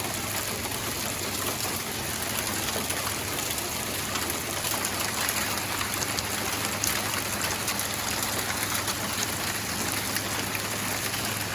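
A hail storm pelts down in California, a steady dense hiss and patter of ice hitting surfaces that holds at an even, loud level throughout with no voices.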